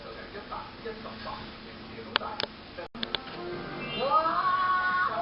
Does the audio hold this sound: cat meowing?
yes